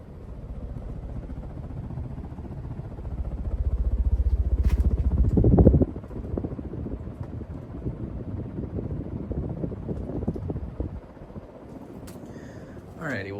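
A 52-inch Hunter Summit ceiling fan runs with a steady low whooshing whir, swelling louder for a moment midway before settling back to an even, droning hum.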